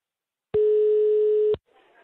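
Single telephone tone sounding steadily for about a second as a call is placed, clean and loud, then a faint murmur afterward.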